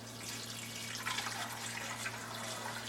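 Water pours steadily from a tea kettle into a Keurig Cuisinart SS 700 coffee maker's reservoir, a continuous soft splashing over a low electrical hum.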